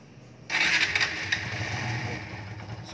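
A 2018 Kawasaki W175 SE retro motorcycle fires up after a short quiet moment, then settles into a steady, close idle thrum with no talk over it.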